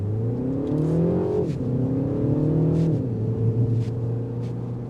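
A 2026 MINI Countryman S accelerating hard with boost engaged, engine note climbing steadily through two gear shifts, loud and close from inside the cabin, with no talking.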